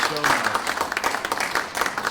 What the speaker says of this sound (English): Monique, you give her please another round of applause.